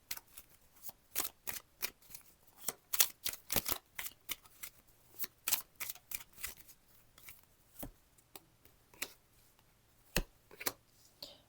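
Tarot and oracle cards are shuffled by hand in a run of crisp, close riffling bursts, uneven in rhythm with short pauses between handfuls.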